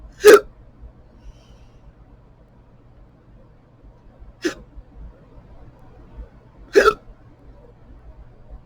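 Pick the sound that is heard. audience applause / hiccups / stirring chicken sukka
hiccups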